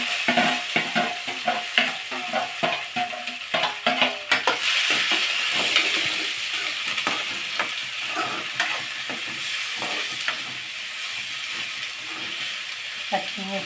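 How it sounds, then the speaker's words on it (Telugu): Cashews, cucumber and carrot fry in oil with cumin and mustard seeds, opening with a rhythmic run of close stirring scrapes, then settling into a steady sizzle with occasional clinks of a utensil in the pan. "ఇవన్నీ వెజిటేబుల్స్ అన్నీ నూనెలో వేయాలి."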